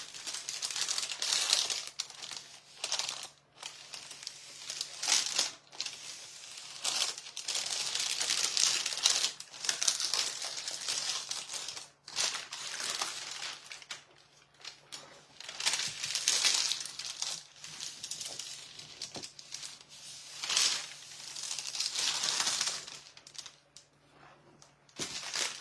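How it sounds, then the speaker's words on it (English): Continuous close crinkling of parchment paper being smoothed and pressed down in a decoupage project, rustling in irregular bursts with short gaps over a faint steady hum. "That poor paper sounds horrible"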